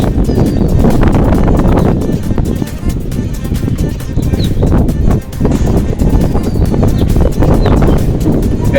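Strong wind on a rooftop on an afternoon buffets the microphone with loud, continuous low rumbling gusts that dip briefly and then surge back.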